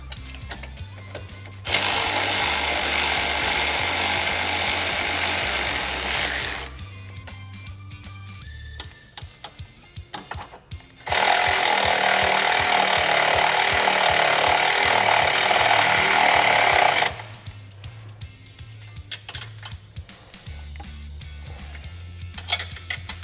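A power tool tightens the upper A-arm bolts on a Can-Am Commander in two long, loud whirring bursts of several seconds each, separated by quieter clinks and handling noises of metal parts.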